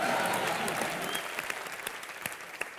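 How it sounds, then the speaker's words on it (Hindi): Studio audience applause on a TV entertainment show, steady clapping that gradually thins into scattered individual claps, fairly close and moderately loud. "जोरदार तालियां।"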